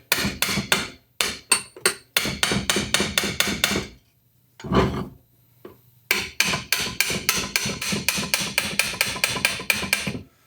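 A hammer strikes a cast aluminum alloy BMW Airhead motorcycle transmission case in fast, evenly spaced taps. The taps come in several long bursts separated by short gaps, close and sharp, in a workshop.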